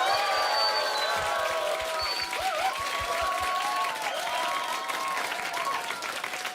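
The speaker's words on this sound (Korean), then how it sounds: "방송은 엉망인데 여러분 박수만 제대로 온 것 같아요." Dense, steady applause from a studio audience at a live public broadcast of a Korean political radio show, sustained for several seconds with a few cheers and talk mixed in.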